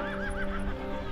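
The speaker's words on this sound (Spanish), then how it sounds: "Con el caballo de pelaje gateado" A horse whinnies at a rodeo-style jineteada event, a short wavering neigh heard at moderate distance over steady crowd and arena background noise.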